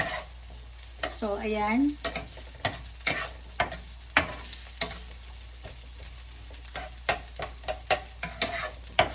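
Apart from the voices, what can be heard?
onions and carrots frying in a pan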